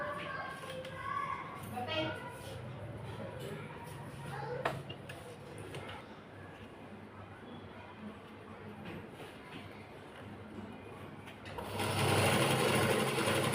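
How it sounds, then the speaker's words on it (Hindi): A sewing machine stitches a salwar in a continuous rapid mechanical whir, with someone talking over it. The motor surges louder near the end. "साइड से सिलाई लगाते हुए पूरे पे इसी तरीके से जाएंगे।"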